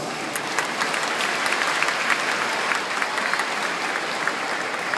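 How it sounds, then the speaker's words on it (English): A crowd at a graduation hooding ceremony claps steadily in sustained, dense applause, even and unbroken throughout. "Let us give them a big round of applause."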